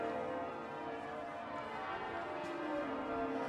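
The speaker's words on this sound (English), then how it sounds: "the other side of where the bells are being rung" Church bells ringing out across York, a steady, continuous peal of overlapping tones that sounds moderately distant and fills the whole stretch without any talking.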